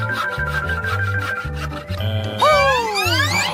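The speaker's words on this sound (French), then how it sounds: "Une scie." A hand saw rasps back and forth in short, rhythmic strokes while trying to cut open a stubborn package, with musical tones sounding over the cutting and rising whistle-like effects near the end.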